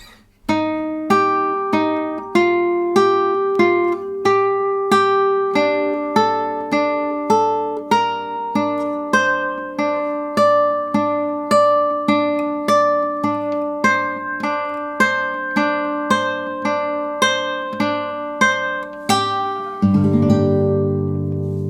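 A guitar riff is picked slowly and evenly, one clear note after another in a repeating pattern, ending on a strummed chord.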